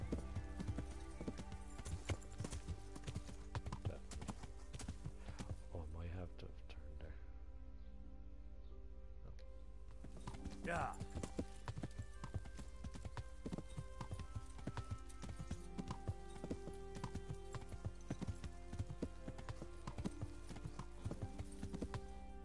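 A horse gallops in a video game, its hooves clattering in a fast, steady clip-clop rhythm that runs almost throughout, near and prominent over layered game sounds and tones, with a brief lull in the middle.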